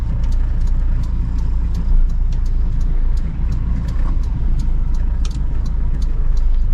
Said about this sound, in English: you can hear the engine noise and the stuff that's happening outside